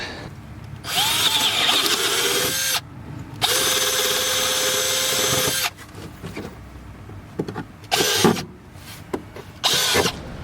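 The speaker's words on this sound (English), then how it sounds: "Started out with a small drill bit, and then I'm going to get progressively bigger" A power drill whirs in several bursts of varying length, loud and close, with short pauses and clicks between runs, drilling holes with progressively bigger bits to mount a battery tray in a Volvo 240.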